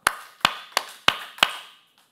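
A church audience at a Bible lecture claps together five times, crisp unified claps in an even rhythm with short room decay, then silence.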